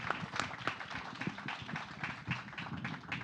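Audience clapping for a speaker at a water-solutions-for-mining event, a thin scattering of individual claps from a modest crowd, fairly close and brief.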